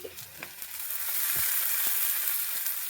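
Onion, ginger, green chilli and tomato fry in a pan with a close sizzle that swells into a strong, steady hiss, marked by a few soft stirring knocks.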